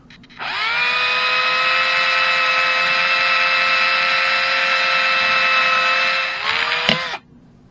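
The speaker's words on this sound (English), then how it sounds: "I'm going to grab my drill, and I'm going to actually just drill this out a little bit bigger." A handheld electric drill with a 1/4 inch bit enlarges a hole in a mirror-mounted cup holder for a Can-Am Ryker, a loud, steady whine that spins up quickly, holds for about six seconds, then winds down and stops.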